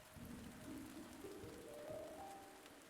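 Soft steady rain in The Spirit and the Mouse video game, falling on a cold night in a quaint village, with a faint tonal game melody rising over the patter at a fairly low level.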